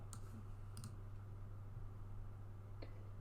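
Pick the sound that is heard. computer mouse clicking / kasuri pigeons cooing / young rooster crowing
computer mouse clicking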